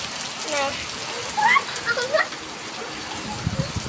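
Rain falls in a continuous hiss while a voice speaks briefly over it and there are a few higher chirp-like sounds.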